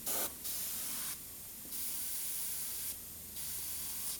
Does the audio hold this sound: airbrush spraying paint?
yes